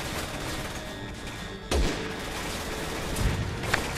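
Explosions and gunfire in Resident Evil 6 make a rolling, crackling barrage, with a sharp heavy blast cutting in partway through and further thuds and shots following, no talking.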